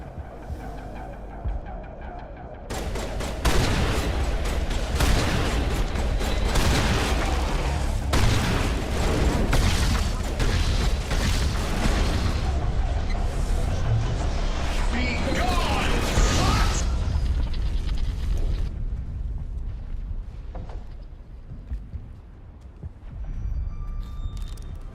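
A detonation in the Mass Effect video game, a loud sustained blast of booming, crashing and gunfire-like bursts lasting many seconds before tapering off, with someone talking over it.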